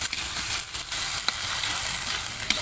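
Meat goes into a hot pan for Bicol egadong with tomato paste, giving a steady, fairly loud sizzle and crackle, with a few brief pops and clicks throughout.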